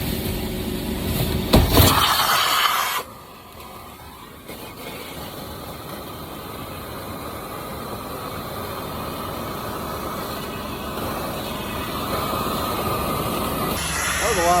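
Water gushes and sprays steadily out of a clogged dryer vent drain. A louder splashing burst comes first, then a continuous broadband hissing rush fills the rest, with voices faintly in the background.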